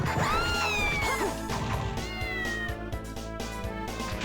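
A kitten meows repeatedly in the Castlevania: Order of Ecclesia video game, high wavering cries over loud game music with thumps and crashes, near and prominent.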